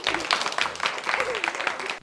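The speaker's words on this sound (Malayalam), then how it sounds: "നല്ലൊരു കൈയടി കൊടുക്കുക" Studio audience applause at a college comedy show, a brief burst of clapping with crowd noise and some voices mixed in, fairly loud and close for about two seconds.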